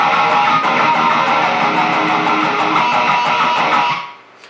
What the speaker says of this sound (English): you put your fingers on the strings, but you don't press them down